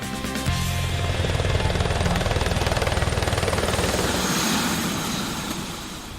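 Helicopter flying over Dubai near the Burj Al Arab, Atlantis and Burj Khalifa, its rotor chop and engine whine loud and steady throughout, heard from inside or close by with no talk over it.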